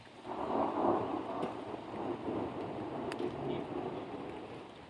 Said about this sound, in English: Some thunderstorms coming through.